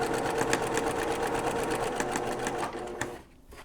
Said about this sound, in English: I'm sewing slowly